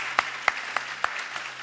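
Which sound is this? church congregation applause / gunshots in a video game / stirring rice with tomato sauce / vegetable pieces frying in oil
church congregation applause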